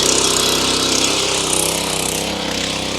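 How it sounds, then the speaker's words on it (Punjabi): A small-engined mini tractor runs steadily while tilling loose soil in a field, its engine a constant loud buzzing drone with no pauses. "ਜੰਦਰੇ ਤੋਂ ਮਿੱਟੀ ਨਿਕਲ ਹੀ ਰਹੀ ਐਨੀ ਮੂਰੇ ਮਿੱਟੀ ਪੋਲੀ ਕਰਦਾ ਜਾਂਦਾ"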